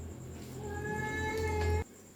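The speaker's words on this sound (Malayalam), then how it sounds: "ഒരു വൃത്തികെട്ട പൂച്ച വന്ന് ഇവിടെ" A cat gives one drawn-out, rising meow close by in a home kitchen, then cuts off abruptly.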